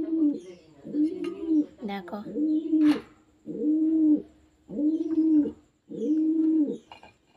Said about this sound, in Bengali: এখন মেয়ে কবুতরটা হাড়ির ওখানে গিয়েছে